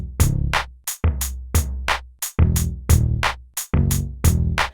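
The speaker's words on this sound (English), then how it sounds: "Cool, so the bass sounds like this." A Mario Paint bass line playing over drums, with punchy repeated bass notes and crisp percussion hits in a steady bouncing groove, loud and clear with no one talking.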